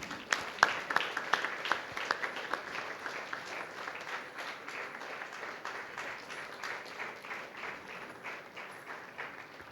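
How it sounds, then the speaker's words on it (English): Audience applause at a Sri Rama Navami celebration, a long, fairly soft run of clapping that is most lively at the start and then settles into an even, continuing patter. "One big round of applause, please."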